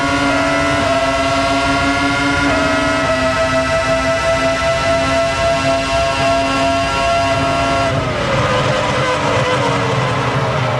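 A loud, high-pitched Formula One engine, at the 2000 Malaysian Grand Prix, screams steadily with layered tonal harmonics, shifting pitch as it downshifts toward second gear near the end, with no talking.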